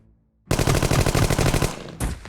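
Submachine gun burst fire from the video game Jagged Alliance 2: a loud, rapid string of shots lasting over a second, then one more short blast.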